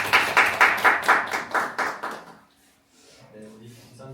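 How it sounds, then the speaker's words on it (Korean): A church group at a deacon training session claps in a quick run of about nine distinct, rhythmic beats that die away, followed by a voice speaking. "박수 하겠습니다."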